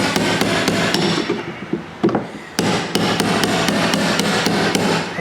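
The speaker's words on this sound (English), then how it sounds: "hammer it back into place just like that until this safety looks just like that" Hammer driving a punch against the locking ring of a fuel pump on a Chevrolet Silverado-type truck, with a run of sharp, close metallic taps in a fairly regular rhythm, a brief pause, then more strikes.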